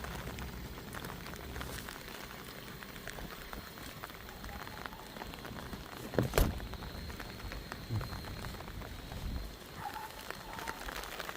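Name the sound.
rain falling during a flood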